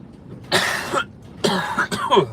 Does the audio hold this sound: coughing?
yes